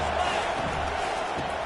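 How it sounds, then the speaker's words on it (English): American football stadium crowd roaring before a second-down play, a dense, loud, continuous wash of noise that stays level through the short stretch. "this crowd is turning it up a notch."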